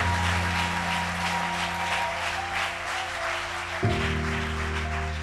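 A conference audience at an innovation and technology for gender equality event in Lualaba applauds: steady, dense clapping from a crowd over a low electrical hum, continuing evenly throughout.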